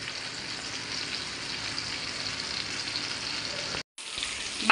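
Mackerel (bangda) fish fry in a pan, a steady close sizzle throughout, broken by a brief silence near the end before the frying resumes.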